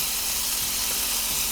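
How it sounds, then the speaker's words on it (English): A Cubano sandwich sizzles and steams in a cast iron pan while being held down. The hiss is loud, close and unbroken, with no talking. "See all that steam and the sizzling going on?"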